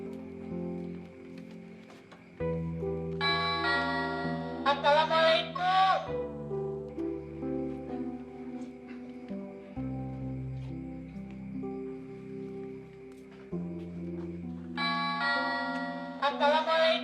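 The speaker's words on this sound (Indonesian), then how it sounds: "Apa sih malam-malam begini pecat-pecat bel?" A doorbell rings at night inside a house, sounding as two separate chime bursts, each a few seconds long, over steady background music.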